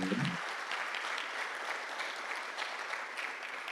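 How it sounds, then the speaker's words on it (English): Conference audience at a healthcare conference gives sustained applause after a presentation, an even, continuous wash of clapping from many hands that stays steady throughout, with a brief voice at the very start. "I request us to give a kind round of applause to Dr. Mpofana"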